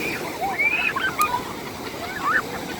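Soft surf washes on the beach at Tecojate as a faint, steady hiss of breaking sea waves. A few thin whistle-like calls sound briefly above it.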